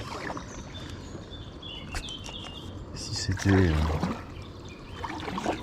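A small paddle dips and swishes through water as a packraft glides along a calm river with a dog aboard, soft trickling and a brief splash midway, while someone speaks French over the gentle strokes.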